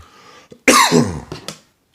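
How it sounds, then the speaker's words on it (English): A couple of sharp, loud coughs close by, followed by a few shorter throat-clearing hacks, with a quiet pause before them. "Sorry for the coughing, got a tickle."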